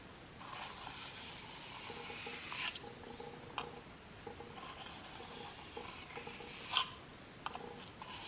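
A Crimson Croc knife stroked across a highest-grit sharpening stone to clear the burr, giving a steady close rasping scrape in repeated passes with a few sharper clicks.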